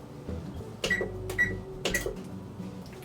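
Control beeps as a kitchen oven is set to preheat: three short electronic beeps close by, each paired with a button press, in a quiet kitchen.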